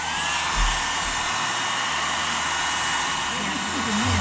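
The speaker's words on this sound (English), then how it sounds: "just hitting it with some heat from the hairdryer now, just to make sure the glue's loose" Hairdryer blowing hot air onto the glued base of a snow globe, a steady close whooshing hum with a faint voice mixed in.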